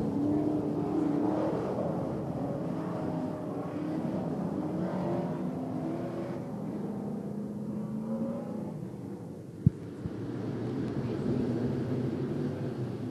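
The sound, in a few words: modified race cars charging into a turn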